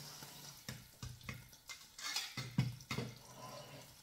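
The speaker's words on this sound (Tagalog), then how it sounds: "lagyan natin ng konting tubig." Water splashes into a hot pan of frying sausages with a few sharp bursts of sizzling and clatter, the crackle rising briefly before settling into a steady fry.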